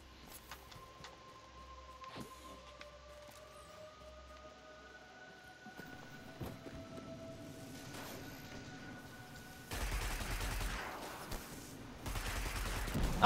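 An auto-loading gun fires in Destiny 2: sharp shots crack out sparsely at first against a faint hum, then come in denser, louder bursts toward the end.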